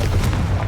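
Confringo explosion spell cast in a Harry Potter video game, a short, loud, deep blast with rumbling bursts and no talking.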